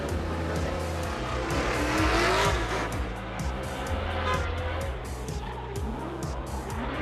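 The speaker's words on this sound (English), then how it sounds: "In a drift competition, two cars squeal around tight turns" Drift competition cars slide sideways around tight turns, tires squealing in long wavering shrieks over roaring, stepping engine notes, with the cars passing close and loud throughout.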